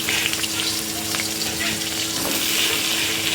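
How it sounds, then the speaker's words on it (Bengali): Eggplant pieces fry lightly in a small amount of oil, giving a steady close sizzle with soft crackles and occasional stirring scrapes throughout, no voices. "এই অল্পটুকু তেলে বেগুনগুলো একটু হালকা করে ভেজে নেবো।"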